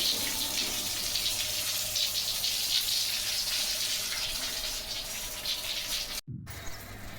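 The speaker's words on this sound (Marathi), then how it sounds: "मोटर चालू करून मस्तपैकी पाणी मारता येते" Water from a motor-driven hose sprays steadily outdoors on a morning street, a continuous rushing hiss that holds for several seconds before a brief dropout and resumes slightly quieter.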